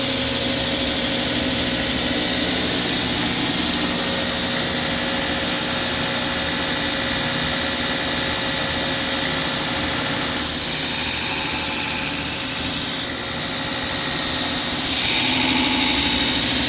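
A forged bushcraft knife having its swedge bevel ground, a loud, steady, droning grinder whine with a sustained tone and shifts near the end, close and continuous with no voices.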